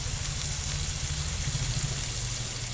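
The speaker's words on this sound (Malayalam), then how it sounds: "ഈ കറിവേപ്പിലൊക്കെ എണ്ണയിൽ കിടന്നിങ്ങനെ" Curry leaves fry in hot oil while fish cooks in the pan, giving a dense, even, continuous sizzle with a low hum underneath and no talking.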